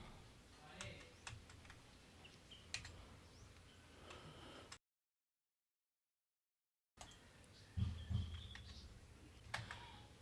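Computer keyboard shortcuts being pressed while editing in a Tkinter text widget, scattered sharp key clicks in short bursts over a faint background, broken by a stretch of silence midway, with no talking.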